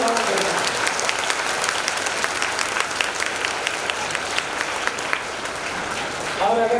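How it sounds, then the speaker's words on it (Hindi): An audience at a Hanuman Chalisa discourse claps steadily in a loud, sustained wave of many hands, with a voice briefly audible at the start and again at the end. "अब बजाओ ताली"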